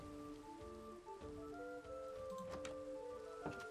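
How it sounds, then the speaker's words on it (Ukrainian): Steady rain patters across the whole stretch, with scattered sharper drops and faint tonal background sounds, no talking. "не люблю дощ"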